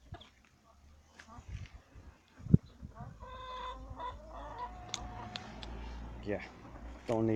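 Chickens cluck and murmur close by, with a drawn-out crow rising midway and soft thumps and rustling around them; voices faintly underneath.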